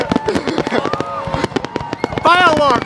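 Fourth of July fireworks crackling and popping in rapid sharp bursts, with whistling streaks, while people nearby talk and exclaim over them.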